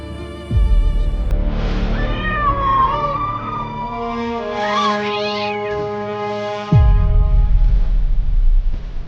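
A cat meows loudly and close, a long drawn-out wavering cry followed by a second rising meow, with no talking.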